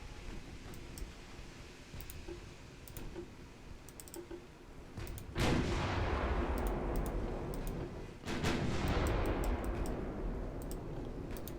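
Two booming salvos from 13-inch naval guns ring out in the Ultimate Admiral: Dreadnoughts warship game, each a sudden heavy blast that rolls into a long rumbling wash over steady ambient noise and faint clicking.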